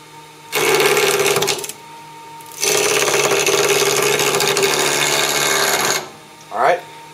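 A mini-lathe cutting a workpiece as the tool is rocked in, with a loud whining, rasping cut in two long bursts separated by quieter motor hum and a short final burst, close up.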